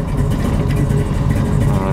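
A 1969 Chevrolet Camaro pro-touring car with a 468 big block engine runs after a cold start, a loud, steady, rumbling idle close to the microphone with no talking.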